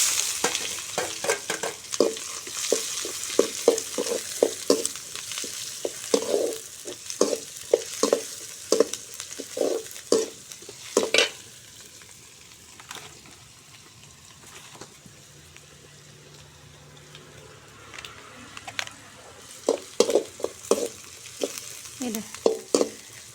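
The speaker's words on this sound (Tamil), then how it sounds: "கடுகு நல்லா பொரிஞ்சிச்சு கருவேப்பிலை போட்டுக்கலாம் அதுக்கப்புறமா வரமிளகாய் போட்டுக்கலாம் வெங்காயம் சேர்த்துக்கலாம்" Onions fry with spluttered mustard seeds, curry leaves and dried chillies in a village kitchen pan. Continuous sizzling runs under repeated close scraping strokes of a stirring spoon, which pause midway and then resume.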